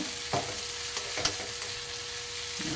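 Garlic and onion sauté in a pan with a steady sizzling hiss, broken by a few soft stirring scrapes and one sharp clink of a utensil against the pan partway through; no one speaks.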